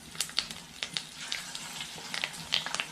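Curry leaves and slit green chillies drop into hot coconut oil and sizzle, with sharp irregular pops and crackles over a steady frying hiss, close and moderately quiet, no voices.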